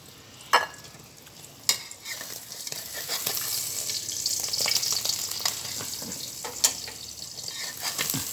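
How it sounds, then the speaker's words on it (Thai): Eggs fry in a hot pan with a steady close sizzle, punctuated by a few sharp clacks and scrapes of a utensil against the pan. "ทอดไข่ทอดไข่"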